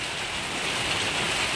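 Rain pours steadily over a village, a dense even hiss of drops hitting surfaces, constant and fairly loud across the whole stretch with no voices.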